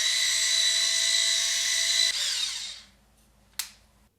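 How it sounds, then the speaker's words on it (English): A small electric grinder whirs steadily as it grinds sesame seeds, a loud high-pitched motor whine that spins down after about two seconds and fades, followed by a brief sharp click or rattle near the end. "I like to grind some sesame seeds on here"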